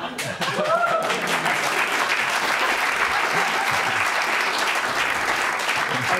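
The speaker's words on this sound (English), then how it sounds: "I just don't understand why you'd clap that." Studio audience at a live television comedy show breaking into loud, sustained applause that rises quickly and continues as a dense wash of clapping with a few voices.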